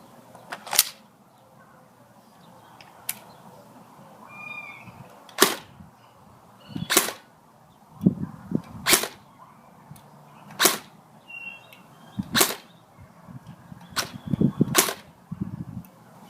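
An airsoft gun with a brass inner barrel fires BBs one at a time in a backyard, about ten sharp snapping shots spaced a second or two apart, with faint impacts and outdoor ambience between shots.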